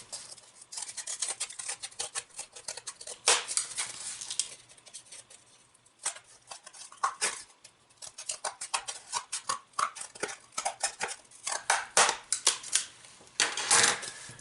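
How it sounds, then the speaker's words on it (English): A pair of scissors snips tabs off a cardboard box, giving a series of sharp, irregular cuts and rustling scrapes, close and fairly quiet, coming in bursts with short pauses and no talking. "Just take a pair of scissors and snip them off."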